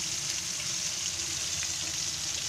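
Bombay duck fish frying in hot oil on a gas stove turned low, a steady close crackling sizzle with no voices.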